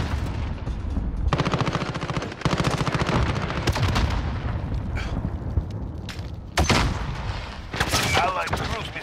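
Video game combat gunfire: sustained machine-gun bursts and heavy booming shots roll in dense, loud volleys, broken by brief pauses, with a few explosive blasts near the end.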